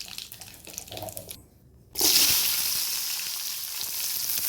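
Cumin seeds hitting hot oil with curry leaves while cooking capsicum poriyal: a short lull, then a sudden loud, bright sizzle that keeps crackling steadily.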